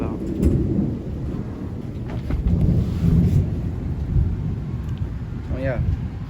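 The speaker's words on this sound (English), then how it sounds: "Sitting out here in the rain" Steady rain with rumbling thunder heard from a porch, a continuous broad wash with a low roll swelling in the middle, while someone talks over it.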